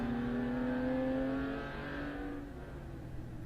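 A Mazda MX-5 NC race car runs during an endurance race, a steady engine drone with a sustained tone that falls away as it passes, fairly loud at first then fading slightly, with no talk.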